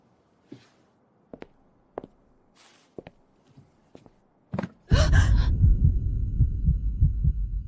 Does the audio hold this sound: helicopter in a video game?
no